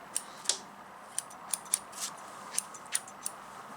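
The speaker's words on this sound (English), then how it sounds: "we'll trim a little bit some of these hanging stitches" Scissors snip loose hanging stitches on an in-the-hoop embroidered corset zipper bag: about ten quiet, sharp clicks at an uneven pace, close by and alone.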